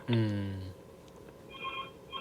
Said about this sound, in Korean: 잠시 전화.